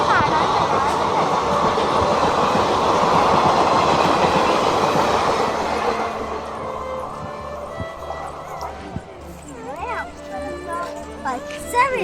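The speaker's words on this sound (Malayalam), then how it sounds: "ഇവിടെ ട്രെയിനിനെ കാണാൻ" A train rumbles past on a railway line with clattering wheels, loud for several seconds before fading, after which faint voices and scattered chirps remain.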